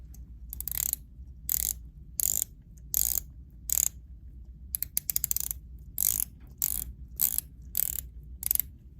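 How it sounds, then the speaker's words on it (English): Watch bezels on Tudor, Omega and Breitling models are turned by hand, giving close, crisp ratcheting clicks in short bursts separated by pauses, with one rapid run of separate clicks partway through. "Do you prefer the 60 click or the 120 click bezel?"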